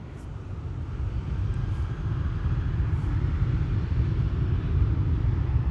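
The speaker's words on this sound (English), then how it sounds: "It's looking like there is an Emirates 777, an Emirates Sky Cargo coming this way." An Emirates SkyCargo Boeing 777 freighter approaches at Amsterdam Schiphol airport. A low, distant engine rumble slowly grows louder and stays steady, with no voices.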